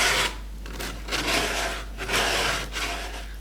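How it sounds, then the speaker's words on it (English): Sandpaper wrapped around a wooden block rubbed along the sharp edges of a glued and screwed wooden airgun charging tank stand, giving several steady rasping strokes in a repeating rhythm, close up with no talking. "take a piece of sandpaper wrapped around a wooden block and sand off any of the sharp edges"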